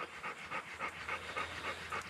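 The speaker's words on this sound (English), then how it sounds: "we're letting the dog hydrate. We are letting him cool down." A hunting dog pants steadily while cooling down and rehydrating after a deer hunt, its quick, rhythmic breaths coming roughly three or four times a second, close by and fairly quiet.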